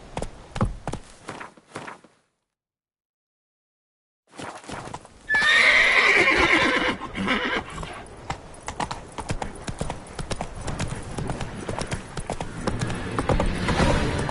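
The Witcher 3 horse Roach gallops on PS5, hooves pounding fast and close after a brief silence, with a loud whinny as the run begins and continuous hoofbeats to the end.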